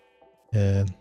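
A single Minecraft Bedrock sheep bleats once, loud and close, a short wavering baa lasting under half a second against a quiet background.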